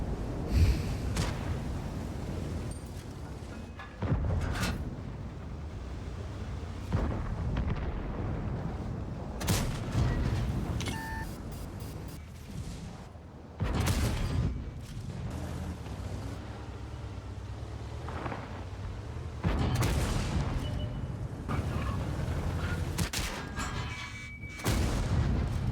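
Object 432U tank cannon in a video game firing repeatedly, each loud booming shot about every four to five seconds over a steady rumbling engine and wind bed, with no voices.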